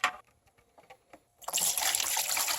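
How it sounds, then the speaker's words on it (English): Zinc plating solution is poured into a shallow pan meant to hold a steel fuel sending unit from a Porsche 944 Turbo; a few light drips and trickles give way to a steady, close, splashing gush. "So you're going to pour this in here."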